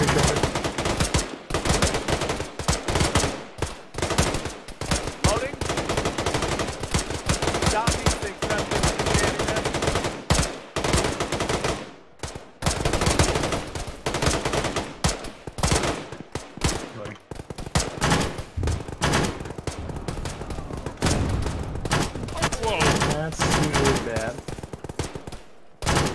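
Repeated bursts of gunfire from the Arma video game crackle in frequent, uneven volleys throughout, with players' voices speaking over and between the shots.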